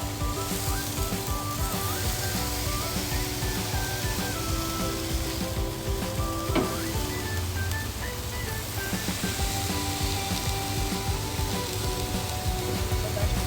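Fajita filling sizzles steadily in a pan, a dense continuous frying hiss that stays close and even throughout, with no talk.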